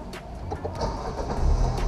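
An automatic car's engine is started with the key, a steady mechanical rumble that builds and grows louder toward the end, heard up close with no talking.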